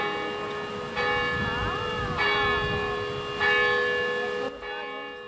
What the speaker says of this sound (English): Bells rang out and yellow bunting was hung from the doors to celebrate the election of the new pope.